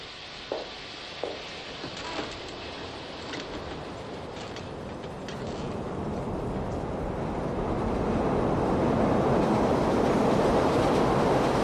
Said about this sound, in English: During this moment, a train passes by